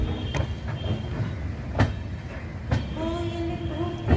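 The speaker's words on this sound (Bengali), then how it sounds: "ট্রেন এখন ঢুকছে অমৃতসর স্টেশনে" The Howrah Amritsar Mail rolls into Amritsar station in steady rumbling motion, with sharp wheel clacks over rail joints and a rising metallic squeal of wheels near the end.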